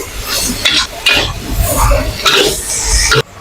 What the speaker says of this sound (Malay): Baru kita gaul dia sehingga dia kering.